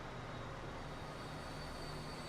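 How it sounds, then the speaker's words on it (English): A freight train in the Transport Fever game creeps dead slow downhill under heavy wagons, a steady low rumble with a faint tonal hum running evenly throughout, no speech. "Train moving dead slow, going downhill."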